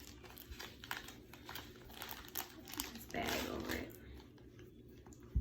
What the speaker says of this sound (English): they come inside of another plastic bag